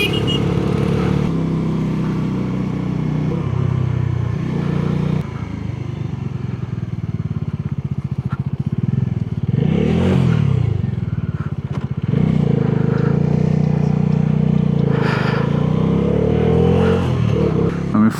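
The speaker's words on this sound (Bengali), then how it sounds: "সামনে একটা বাইকার গ্রুপ" Rental motorcycles ridden by a group of bikers in Ladakh pass close by, engines droning steadily with several louder swells as individual bikes go by, loud and continuous throughout.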